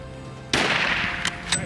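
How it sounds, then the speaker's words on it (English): A rifle fired at a buffalo during a big game hunt, one sharp, loud report with a ringing tail, followed by fainter mechanical clicks. "Shoot him again. Reload. Shoot him again."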